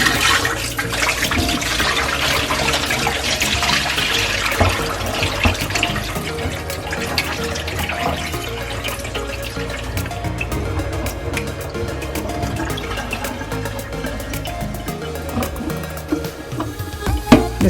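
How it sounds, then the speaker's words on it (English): Water rushes and gurgles as it drains out of a kitchen sink full of washed collard greens, a continuous splashing flow with occasional clunks and rattles near the end. "Let's drain the water from the greens."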